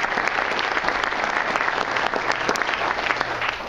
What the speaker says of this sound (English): Would you guys join me in a round of applause?